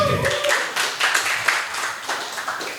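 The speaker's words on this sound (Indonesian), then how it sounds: "boleh minta tepuk tangannya dulu teman-teman" Scattered clapping from a modest group, uneven hand claps fading and swelling briefly, close by with light background murmur.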